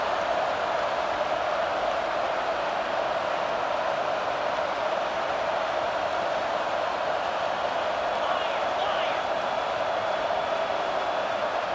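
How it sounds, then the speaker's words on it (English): A home crowd roars steadily at a college football game, Alabama versus Nebraska, as the defense faces third down, a dense, distant wash of cheering that holds at an even level throughout. "Here comes this home crowd as the defense tries to get off the field on 3rd down"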